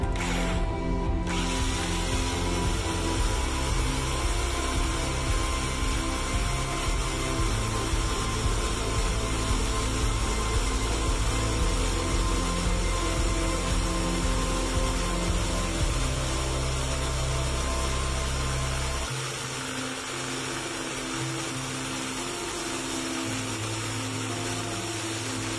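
A steady mechanical whirring and ratcheting hum from an electric drill spinning a homemade AC generator runs throughout, with the pitch dropping partway through as the spinning slows, close and fairly loud.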